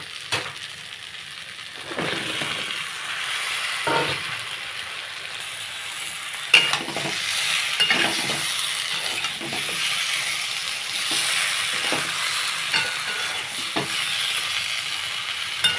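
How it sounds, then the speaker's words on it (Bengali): Potato and ridge gourd cooking with spices sizzle gently and steadily in a pan while a spoon periodically scrapes and stirs, giving intermittent dull knocks over a low frying hiss. "আলুটা মশলার সঙ্গে খুব ভালো করে কষানো হয়ে গেছে"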